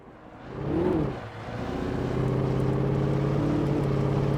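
A car driving in the Alan Wake video game, its engine droning steadily and rising in pitch as it accelerates, close and continuous with no talk.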